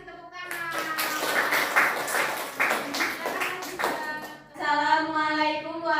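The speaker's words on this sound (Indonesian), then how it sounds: "Kelompok 2 kasih tepuk tangan." Classroom clapping as a group of students is called to the front in an Indonesian university lesson, a short burst of hand claps mixed with children's and adults' voices, then a voice starts speaking over it near the end.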